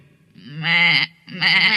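A goat bleats twice in quick succession, loud and close, each cry quavering and nasal.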